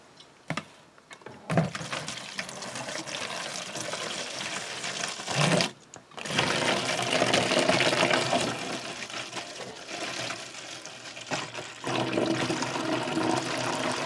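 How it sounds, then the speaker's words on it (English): Red grape juice pours steadily into a fermenter for homemade wine, a loud continuous gushing liquid stream broken by a couple of brief pauses, with no talking. "Next to go in is the grape juice."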